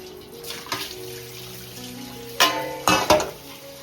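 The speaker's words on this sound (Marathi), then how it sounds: "मस्तपैकी धुवून घ्यायचं मस्त स्वच्छ पाण्याने" Water running and splashing in a basin while crabs are rinsed, with a few louder sloshing bursts near the end, close by.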